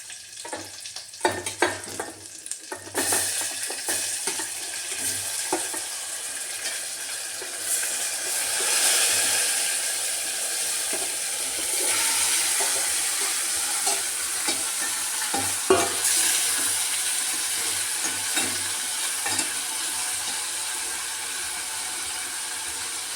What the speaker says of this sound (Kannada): ಈಗ ನಾನು ಬೆಂದಿರೋ ಮಟನ್ ಹಾಕ್ತೀನಿ